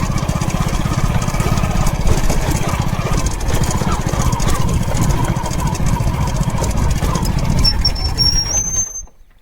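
A motorbike engine drones loudly and steadily while the bike is ridden, with a constant buzzing pulse that cuts off at the very end.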